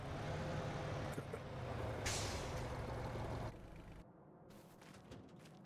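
A tractor in Farming Simulator 25 rumbles along with a steady low engine drone and a hissing air-brake release midway, then the engine note drops quieter toward the end.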